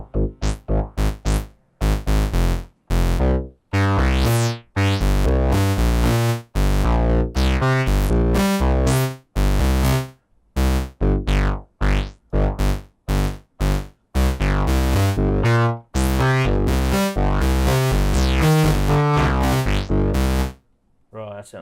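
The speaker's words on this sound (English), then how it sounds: "let's get some distortion happening on this bass sound." A distorted synth bass from a Novation Circuit plays a choppy, repeating riff of short gritty notes with brief gaps, loud and up close throughout.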